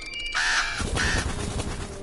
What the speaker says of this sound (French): Ok, les corbeaux.